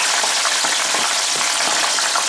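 Prawns fry in very hot oil, giving a loud, dense, unbroken sizzle with faint crackling pulses, close and alone with no voices.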